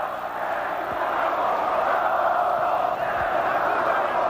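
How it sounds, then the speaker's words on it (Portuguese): A large Corinthians crowd protesting inside Morumbi stadium during a 2001 Brazilian league match against Grêmio, a steady distant roar of massed voices filling the ground without pause. "E agora a torcida do Corinthians aqui no Morumbi só protesta."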